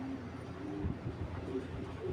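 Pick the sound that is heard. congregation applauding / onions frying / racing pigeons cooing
racing pigeons cooing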